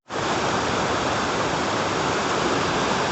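A rushing glacier-fed river with a strong, forceful current on a Pindari Glacier trek, a loud, steady broadband roar of water filling the whole clip with no let-up and no voices.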